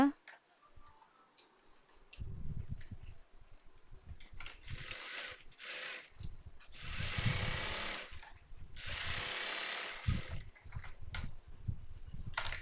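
A sewing machine double-stitches a chudithar pant seam in several bursts of rapid, close mechanical whirring and ticking, with short pauses between runs. A quieter stretch at the start holds faint clicks.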